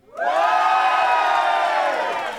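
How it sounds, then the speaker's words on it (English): A studio audience at a BBC radio roadshow lets out a big cheer, rising quickly into loud sustained whooping and shouting that carries on for a couple of seconds. "Give us a big road show cheer!"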